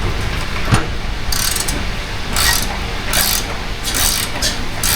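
Rapid ratchet clicking comes in short bursts as a ratchet backs off a suspension bolt on a Holden HQ coil spring job, close and fairly loud over garage noise. A voice is heard now and then.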